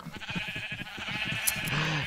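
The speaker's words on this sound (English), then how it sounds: "So I've made a lot of white sheep, as you can see" White sheep bleating in Minecraft, several overlapping bleats in quick succession, moderately loud and close, with no talk.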